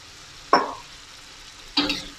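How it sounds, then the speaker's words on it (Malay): Water poured into a pan of frying tofu and egg with soy sauce gives two short, loud bursts of sizzling about a second apart, each fading quickly, with no talking. "Kita masukkan sedikit air."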